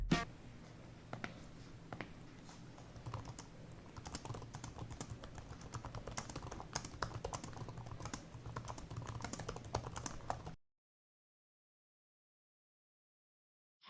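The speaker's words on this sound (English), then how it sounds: "I'm going to do a quick typing test on Monkey Type." Fast, steady typing on an HP Pavilion Aero 13 laptop keyboard, crisp close key clicks running continuously for about ten seconds before cutting to silence.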